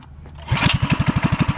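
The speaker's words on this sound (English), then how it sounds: "Give her a first start." Predator 212 small engine, stage 1 modified, catches on its first pull with the choke on: a short whir, then a close, loud, rapid chugging putter that settles into an even running rhythm, with no voices.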